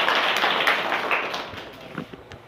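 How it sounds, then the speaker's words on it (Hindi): Students clapping in a school classroom during a general knowledge quiz, a loud burst of many hands that gradually thins out over a couple of seconds. "चलिए जोरदार ताली हो जाए"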